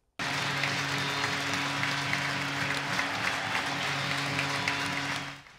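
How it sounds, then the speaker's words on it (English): Sustained applause from a large ice hockey arena crowd held before a game, a dense steady wash of clapping that starts abruptly and fades out at the end, with a low hum beneath and no talking. "47 seconds of applause was held before games across the league this weekend"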